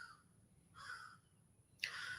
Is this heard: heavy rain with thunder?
no